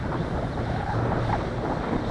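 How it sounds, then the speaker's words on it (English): Gusty wind blows outdoors near tennis courts, a steady low rumble of wind buffeting the microphone with no voices. "It's actually quite windy out."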